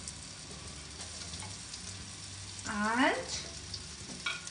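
Onion and square-cut capsicum sizzle as they sauté on high flame with white sesame seeds for honey chili potatoes, a steady close frying hiss with stirring and a brief voice in the middle.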